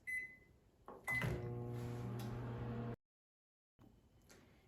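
A microwave oven runs steadily for about two seconds while cooking an Oreo mug cake in a mug, giving a constant hum with a mid-range drone, then cuts off abruptly into silence before faint room noise returns.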